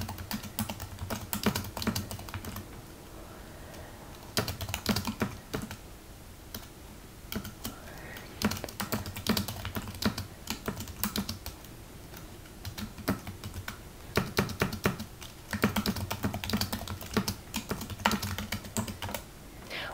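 Typing on a computer keyboard to enter text for a sign design, with rapid bursts of close, crisp key clicks separated by short pauses, repeating in clusters throughout.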